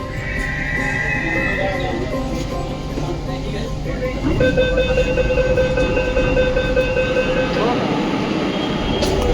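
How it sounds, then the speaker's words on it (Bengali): A metro train runs on an elevated track above the Kolkata International Book Fair grounds with a steady rolling rumble, and drawn-out squealing tones rise partway through. Voices from the crowded fair carry underneath. "অনায়াসে বইমেলার ওপর দিয়ে মেট্রো চলে যায়"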